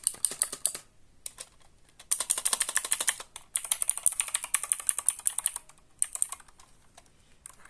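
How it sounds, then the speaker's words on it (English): Fingers type on a non-hot-swappable mechanical keyboard whose spacebar rattles as if it had no stabilizer, in fast clacking bursts separated by short pauses, close and clear with no talking. "Here's the spacebar. The rattling is so bad."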